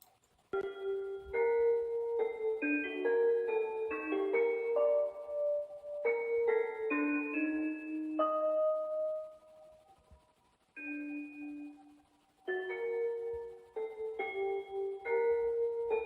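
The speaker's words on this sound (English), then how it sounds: "the next part is this little bell pattern." Soft bell tones ring out a short repeating melody, several chiming notes in quick groups separated by brief pauses, clear and unaccompanied.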